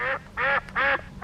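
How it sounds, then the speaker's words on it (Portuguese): Three loud, close duck quacks in an even rhythm, each short and nasal, with no other sounds around them. "E temos o pato."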